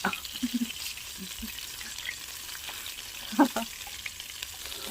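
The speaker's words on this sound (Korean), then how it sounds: "기름이 팔팔 끓는 기름이 어디로 튈지 몰라요" Pork belly fries in boiling oil outdoors on top of a vehicle, giving a steady close sizzle with scattered pops and spits, and a voice talks briefly over it.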